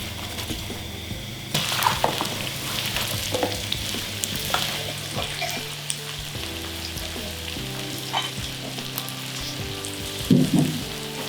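Onions frying in olive oil in a pan, a steady close sizzle with occasional stirring scrapes and a louder clatter near the end, no voices.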